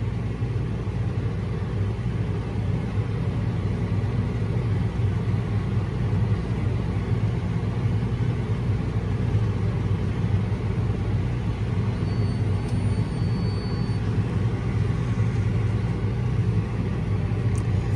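A CLAAS Axion tractor runs steadily at low speed, about 4-7 km/h, its engine a constant deep rumble with a broad, even drone and no break across the stretch.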